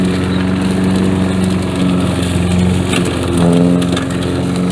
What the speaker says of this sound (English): this is my secondary mower anyway